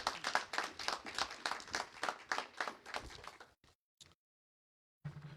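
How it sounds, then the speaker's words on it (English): A press-conference audience claps in a short burst of fast, even hand claps, fairly faint, fading out after a few seconds into silence with a couple of stray claps. "everyone join me in giving the Ammons family another round of applause"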